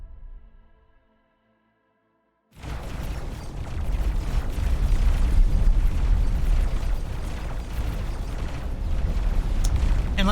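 Missile explosion in the space game X4 Foundations: after a brief near-silence, a loud, sudden broadband blast erupts and rolls on as a sustained, rumbling roar with crackling debris that fills the rest of the clip.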